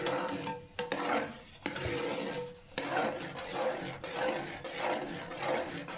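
Thick jackfruit mixture for chakka varattiyathu stirred in a pan, making repeated scraping, rubbing strokes with a steady rasping rhythm at moderate volume.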